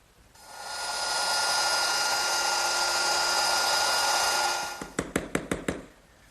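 A router cuts a dado into wood, guided by a guide block: a loud, steady high whine holds for several seconds and then winds down, followed by a quick series of sharp knocks and taps, with no talking.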